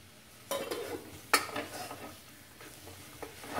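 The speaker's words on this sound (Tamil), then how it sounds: "தக்காளி கொஞ்சம் வதங்கட்டும்." Tomatoes sautéing in hot oil for a quick chicken curry, heard as a soft background sizzle with a few sharp spoon-against-pan scrapes and stirring clatters, no voices.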